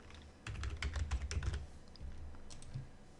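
Rapid typing on a computer keyboard while filling in title-block fields in IronCAD 2021 drafting software, a quick burst of close, crisp key clicks followed by a few scattered keystrokes and a pause.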